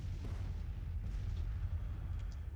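Distant artillery fire rumbles in a Civil War battle video game near the town of Winchester, a low continuous booming bed with faint scattered reports over it and no talk.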